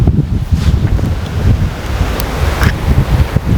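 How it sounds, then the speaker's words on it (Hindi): Strong wind blows at the ancient Dharashiva caves near a Shiva temple, roaring into the microphone as loud continuous low gusts with rustling surges and no voices. "बहुत तेज़ हवाएं चल रही हैं"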